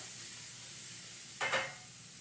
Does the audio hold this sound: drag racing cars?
no